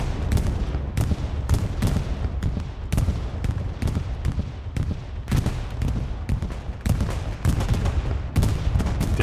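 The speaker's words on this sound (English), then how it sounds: "Bombing run down to the bottom." Rapid, dense bursts of explosions from a bombing run in the World War II shooter Hell Let Loose, on a competitive 49-versus-49 match on the Hill 400 map, booming continuously and loudly with overlapping blasts for the whole stretch.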